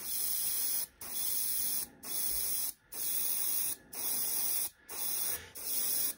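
Short bursts of aerosol spray paint priming a 54mm miniature engineer figure hiss in a regular rhythm, about seven close, loud sprays separated by brief pauses.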